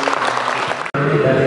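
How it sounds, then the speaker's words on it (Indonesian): Students at a boarding school orientation clap their hands together in a room, a dense burst of applause that cuts off sharply midway and resumes, with some voices mixed in underneath. "Tepuk tangan"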